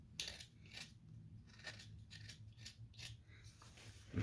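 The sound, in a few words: knife carving a wooden dragon spoon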